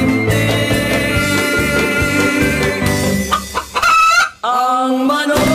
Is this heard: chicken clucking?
yes